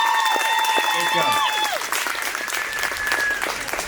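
Outdoor crowd applause at a Memorial Day parade, honoring a speaker, steady and loud clapping with cheering voices and whistle-like calls mixed in throughout.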